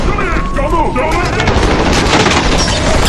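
Gunfire during a police special-forces raid in an action film, dense overlapping shots and loud bursts filling the whole stretch, mixed with chaotic film sound.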